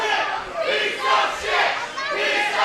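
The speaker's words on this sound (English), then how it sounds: "the crowd telling Jackson what they think about him" A wrestling crowd at a UCW-Zero Incarceration show jeers and shouts at wrestler Bobby Jackson, a loud, rolling wall of massed voices that swells and dips in waves over a few seconds.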